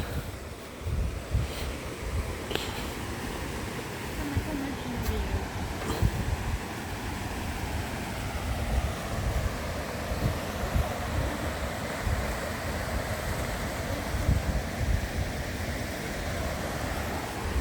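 Water pours down Mo Paeng waterfall in Pai, Thailand, making a steady, dense rushing roar heard up close, unbroken for the whole stretch with no voices over it.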